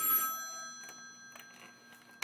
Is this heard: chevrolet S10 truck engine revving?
no